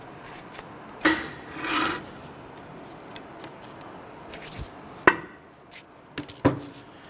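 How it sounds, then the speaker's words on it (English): Sharp metallic taps on the rear brake rotor of a Hummer H3 to loosen it from the hub, a few separate knocks spaced apart with faint rubbing between, close and fairly quiet. "we want to go ahead and tap it and rotate if you can"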